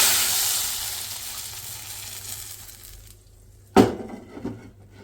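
A fading sizzle trails off, then hot baghaar tempering poured over cooked dal erupts in one sharp, loud hissing burst that crackles briefly and settles.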